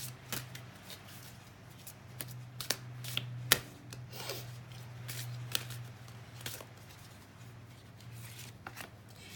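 Cards being riffled and shuffled in a quiet room, a series of crisp snapping bursts with short pauses between them, close by, over a low steady hum.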